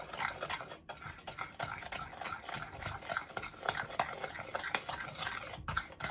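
A spoon stirs a thick dough with lemon juice in a bowl, with soft repeated scraping and wet churning at close range.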